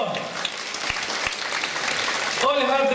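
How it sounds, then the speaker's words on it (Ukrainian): Theatre audience applause at a staged Ukrainian folk song performance, loud and sustained dense clapping throughout, with a voice and music entering near the end. "Оплески."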